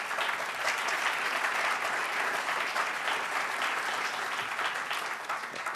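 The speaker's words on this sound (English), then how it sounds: "So why don't we give them all a round of applause" Sustained applause from an audience honoring young entrepreneurs at an event, a dense, steady wash of many hands clapping close and loud throughout, with no one speaking.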